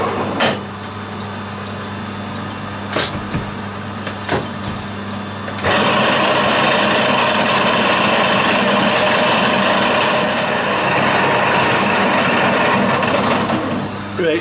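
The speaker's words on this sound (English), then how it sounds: "It's got the transition gears in for cutting imperial threads, and they're bloody noisy." A metal lathe with imperial thread-cutting transition gears fitted runs with a loud, steady mechanical clatter and whine, growing noticeably louder partway through and continuing unbroken to the end, with no talk.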